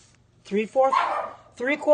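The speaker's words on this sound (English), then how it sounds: "my dog, I don't know what she's barking at" A female dog barks indoors in a run of close, sharp yips and woofs, loud and repeated, while someone in the kitchen talks through a recipe for carob chocolate chip almond butter bars.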